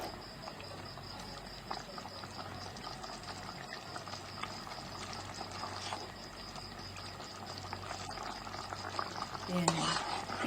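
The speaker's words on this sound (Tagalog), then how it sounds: "I-simmer lang natin ng mga 1 minute ulit." Guava simmering in thick coconut cream, a steady, close bubbling boil with soft liquid pops and occasional stirring, continuous and fairly quiet throughout.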